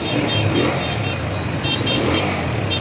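A Honda 125 motorcycle engine idles steadily up close, a continuous low rumble with a faint whine above it.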